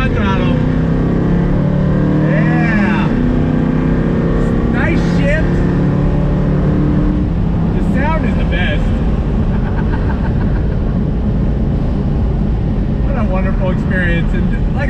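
A 2021 Dodge Cuda muscle car engine comes back on throttle with a loud, steady roar that holds at close range for the whole stretch, and someone talks over it.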